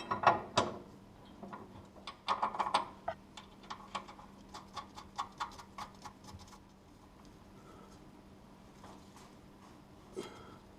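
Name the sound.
tightening a bolt on a vehicle's rear suspension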